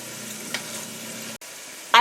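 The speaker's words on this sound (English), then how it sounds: "Now I'm going to add that to the onions and celery and mix it around." Chopped garlic is stirred into onions and celery in a pot for chicken pot pie, a soft steady sizzle with light scraping, a brief dropout, then a louder burst of frying at the end.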